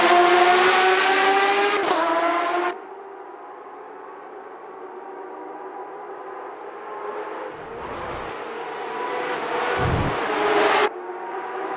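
Porsche 911 RSR race cars in a Spa racing video game roar loudly at close range, engines revving high, then dropping to a steadier drone before swelling again as cars rush past.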